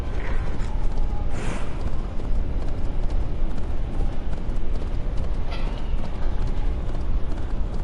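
Horse hooves clip-clop steadily on a ride set in England 873 AD, an unbroken dense clatter of hoofbeats and creaking tack, loud and close throughout with no talking.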